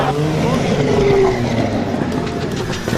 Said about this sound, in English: And the Lotus Ferrari, just listen.